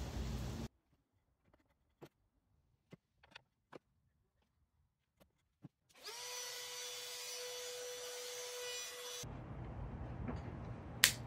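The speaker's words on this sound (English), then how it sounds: "Now we can drill on down." A power drill bores into a wooden speaker box, a sustained whine running for about three seconds after a few scattered faint taps and clicks, close and fairly loud, with no talking.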